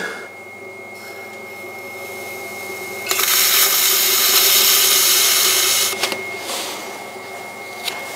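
A clay pot is trimmed on a pottery wheel: a steady motor hum runs throughout, and a harsh scraping rasp of the trimming tool starts abruptly, lasts about three seconds, then stops, followed by a few brief scrapes.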